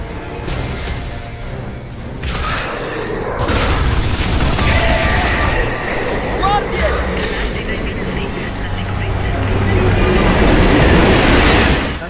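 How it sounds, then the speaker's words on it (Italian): A train rumbles past in the Gears of War 3 video game, a loud, sustained roar with heavy low-end booms and clattering metallic bursts, mixed with game effects and someone talking in Italian. "Merda, il treno ho esagerato."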